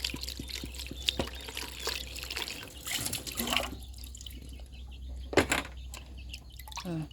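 Water splashing and dripping as a fish is rinsed and cleaned by hand in a basin outdoors, with irregular trickles, drips and small pours, moderately close and fairly quiet, with a brief louder splash near the end.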